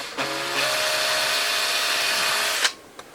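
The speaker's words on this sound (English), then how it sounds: "I'm just going to drill a small hole there." Power drill boring a small pilot hole in wood for a screw, a steady whining motor buzz that runs for about two and a half seconds and then cuts off, loud and close with no talk.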